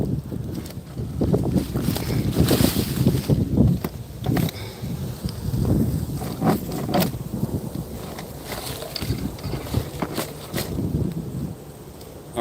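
Gusty wind roars and buffets outdoors during a hike, with loud low rumbling microphone buffeting that swells and eases in waves throughout, alone without talk.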